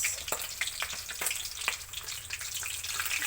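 Freshly caught fish frying in hot oil, a soft crackling sizzle peppered with sharp pops and spits at irregular intervals, fairly quiet and close, with no one talking.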